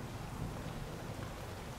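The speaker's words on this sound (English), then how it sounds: "Just as I finished swimming in the swimming pool, it started raining" Steady rain falls over a cliffside pool villa at a mountain resort some 2,000 meters up, a dense, even hiss with a low rumbling undertone and no voices.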